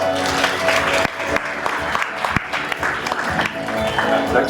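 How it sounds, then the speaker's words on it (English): An audience at a sustainability event in a hall gives loud, continuous applause with dense clapping throughout, a few sharper claps standing out, and some voices mixed in. "Thanks so much for the applause."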